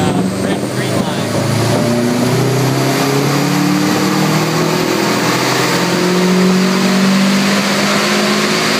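A car engine revs steadily upward through a full-throttle pull, with gear-like rising tones that climb and reset under a loud, continuous roar. A voice speaks over parts of it.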